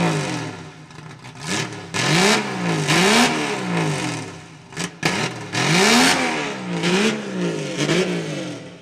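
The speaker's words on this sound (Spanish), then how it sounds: "Aquí comienzan a rugir los motores" Car engines at a multi-brand car meet in Acebal rev hard again and again, with sweeping rising and falling pitch in repeated bursts, loud and close, with no talk over them.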